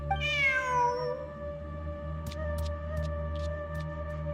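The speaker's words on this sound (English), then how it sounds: "Who's a good kitty?" A cat meows in Genshin Impact: one clear, rising-then-falling meow at the start, followed by a sustained tonal hum and a few short bright blips, with no talking.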